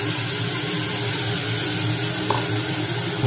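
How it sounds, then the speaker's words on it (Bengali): Chana dal fries lightly over medium heat in a pressure cooker, a loud, continuous, even sizzle that holds steady throughout. "এবার আঁচটা মিডিয়াম করে একটুখানি হালকা ফ্রাই করে নিচ্ছি"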